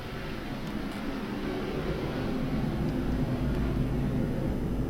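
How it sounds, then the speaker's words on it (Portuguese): Airplane passing overhead as a broad, steady low roar that swells slightly over several seconds, continuous and fairly loud without distinct breaks. "Estou esperando o avião aí fazer a sua passagem"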